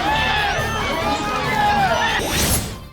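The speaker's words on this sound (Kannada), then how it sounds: "ಗ್ಯಾರಂಟಿ ರಾಮಯ್ಯ ಬರ್ತಿದ್ದಂತೆ ಹರ್ಷೋದ್ಗಾರದ ಹೊಳೆ." A large crowd cheers and shouts at a Congress political rally in Malavalli, Mandya, as Chief Minister Siddaramaiah arrives. The noise is dense and continuous throughout, with whistles and high shrill calls rising above the roar.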